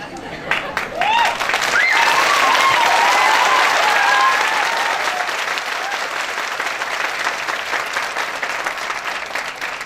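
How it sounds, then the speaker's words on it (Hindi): Loud, sustained audience applause at a sales training seminar, building quickly to a dense roar of clapping and holding steady for several seconds, with a few cheers rising near the start. "आप लोगों को ताली बजानी है ना, दिल से बजाओ"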